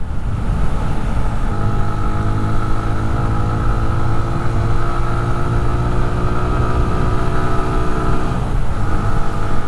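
A 2005 Yamaha YBR 125 motorcycle pulls out of a curve on a country road, its single-cylinder engine holding a loud, steady drone as the revs rise gently, with wind rushing over it throughout.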